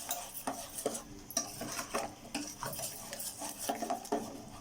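A sweet bottle gourd mixture with sugar being stirred and fried in a pan, with a continuous soft sizzle under repeated scraping and clinking of a spoon against the metal, close and steady.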